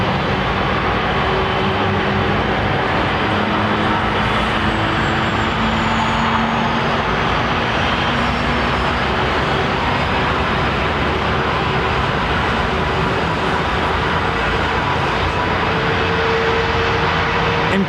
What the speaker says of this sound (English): listen to that 767 pulling in behind this Virgin jet